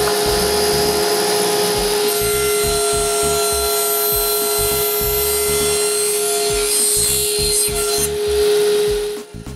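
A wooden tenon is cut on a shop-made tenoning jig, a loud, close, continuous power-saw whine with a rapid choppy rhythm as the blade bites into the wood, easing off at the very end.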